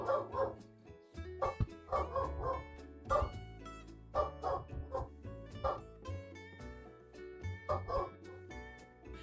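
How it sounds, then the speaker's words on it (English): Several dogs bark and yip in repeated loud bursts, some overlapping and some whimpering, in an uneven rhythm with brief gaps, close by and with no talk over them. "you guys don't really gotta bark that loud to get my attention"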